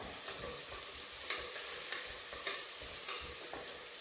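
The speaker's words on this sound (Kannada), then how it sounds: "ಚೆನ್ನಾಗಿ ಫ್ರೈ ಆಗಬೇಕು ಕೆಂಪುಗೆ ಈರುಳ್ಳಿ" Green chillies, onion, ginger, garlic and cumin fry in a pan for millet dal khichdi, giving a soft, steady sizzle broken by repeated scraping stirs of a spoon, fairly quiet and without talk.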